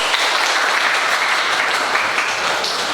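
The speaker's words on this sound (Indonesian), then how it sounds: "Tepuk tangan untuk kalian semua" A classroom of students applauds at the end of a lesson, a dense, steady wash of clapping that stays loud and even throughout with no voices rising above it.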